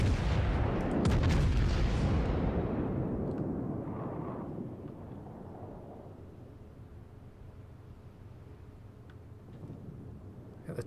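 Heavy battleship turret guns fire a booming salvo in a naval combat video game, a loud close blast that rolls into a long fading rumble, with a fainter distant thud near the end.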